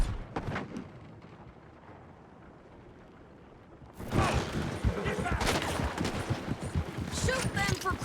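Gunfire erupts in Red Dead Redemption 2 after a few quieter seconds: a dense, loud volley of shots and blasts that continues to the end, with shouting voices mixed in.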